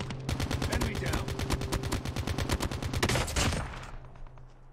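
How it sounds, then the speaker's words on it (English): Rapid automatic gunfire from the mobile game Call of Duty Mobile, a long, even burst of shots, loud and close, fading out at the end. "All the shots went right into the top of that wall."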